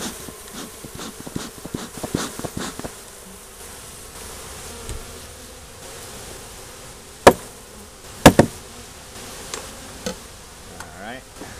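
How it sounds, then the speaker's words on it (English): A steady, low hum of honey bees in a hive fills the air, with scattered knocks and a couple of sharp clicks partway through. "A lot of bees up here."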